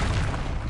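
An Expelliarmus spell cast in Hogwarts Legacy lands as a short, loud, booming burst with a full low thump.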